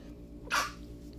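A single sneeze bursts out from a person in a youth discussion group, one short sharp puff of air over a low steady background hum, with no talking during it.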